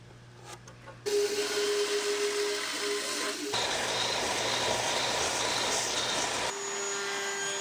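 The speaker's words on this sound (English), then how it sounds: "I flip that over and counter bore with a 3/4-inch bit" A drill with a 3/4-inch bit counterboring wood for a folding table, a loud steady whirring drone that shifts pitch and level partway through, running alone after a quiet start.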